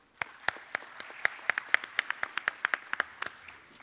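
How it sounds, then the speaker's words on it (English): Sparse applause at a climate change forum opening plenary welcomes a speaker, a few hands clapping in distinct, separate claps at a moderate pace, rather faint and roomy. "please welcome him with a big round of applause"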